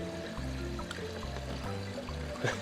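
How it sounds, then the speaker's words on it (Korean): Water trickles and splashes as it is poured from a cup into a hang-on aquarium filter, a continuous moderate pouring sound over a low steady hum, with no voices. "여과기에 전원을 꽂기 전에는 물을 가득 채워 놓아 주셔야 돼요."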